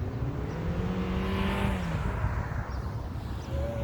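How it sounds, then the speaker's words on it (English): A car engine revs hard, a loud close roar with rising and falling pitch sweeps, surging and easing over a few seconds with no voices. "See how hard that engine was revving?"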